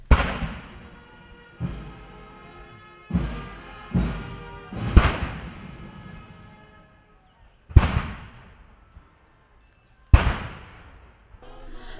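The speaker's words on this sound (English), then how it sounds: "Mr. Kunda was accorded a 19-gun salute" Gun salute fired at a graveside burial in a memorial park, seven loud blasts spaced irregularly a second or two apart, each followed by a rolling echo that fades into quiet outdoor air.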